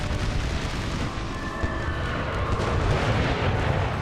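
Rolling artillery fire in the Napoleon Total War American Civil War mod at Fisher's Hill, a dense, continuous low rumble of distant booms and battle din with no distinct single blasts.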